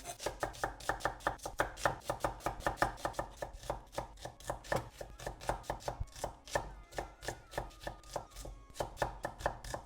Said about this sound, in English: I'm gonna get good 3 onions, and I'm just gonna thinly slice them up